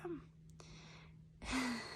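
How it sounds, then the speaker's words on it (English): A dog pants in short breathy bursts, the strongest burst near the end, close to the microphone in a quiet room. "my dog's panting and it's causing me to"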